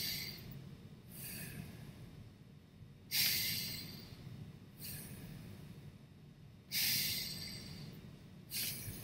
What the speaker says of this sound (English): We can take 3 deep breaths.